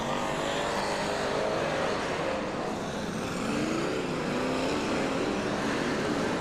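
A pack of BriSCA Formula 1 stock cars roars away from the start at Bradford, a loud, dense engine drone filling the whole span with rising revs, heard from trackside without speech.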